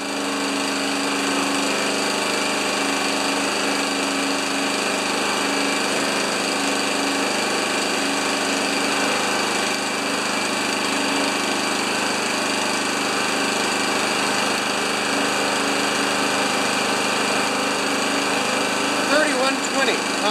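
A Honda HRA214 lawn mower's engine runs at a steady, loud drone with no pauses, close by, with a throttle that is manually set.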